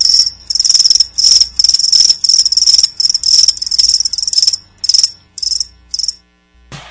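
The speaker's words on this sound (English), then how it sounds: "That's right, crickets." Crickets chirp loudly and close in rapid repeated bursts, the pulses thinning out before stopping near the end.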